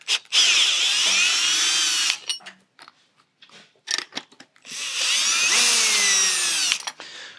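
A power drill whines loudly in two long bursts while loosening the cap of a XERO Pure MAX water filter membrane housing, with a few short clicks and handling noises in the pause between them.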